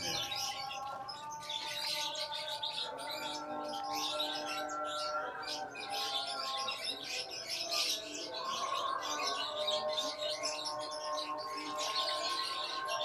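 A white-rumped shama (murai batu) being bathed, chirping with bright repeated whistled calls over a steady hiss of spraying water, continuous and fairly close throughout.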